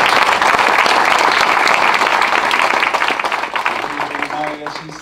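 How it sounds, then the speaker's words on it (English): A crowd at an evening community gathering applauds steadily and loudly. The clapping eases slightly near the end, with a faint voice starting under it. "let's give her another round of applause."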